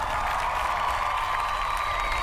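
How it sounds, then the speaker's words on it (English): Steady applause from a crowd, a dense continuous patter of clapping that holds at an even level throughout. "Oh, a round of applause instead"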